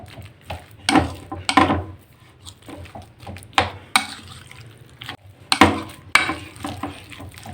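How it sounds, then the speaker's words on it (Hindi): Water is poured into pakora batter and stirred in a bowl, giving a series of wet splashes, slaps and clinks in irregular bursts, fairly close, with quiet gaps between. "तो इसमें हम डालेंगे थोड़ा सा पानी।"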